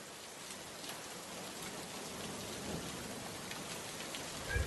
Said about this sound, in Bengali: মনে হচ্ছে বৃষ্টি কমতে শুরু করে দিয়েছে।